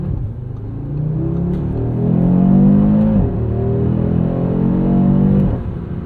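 2022 Audi RS3 engine in manual mode pulling hard through the gears, a loud close rumble that rises in pitch, drops sharply at each upshift, then climbs again, with no talking.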